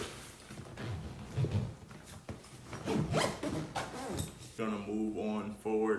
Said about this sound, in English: So we can go ahead and zip this up.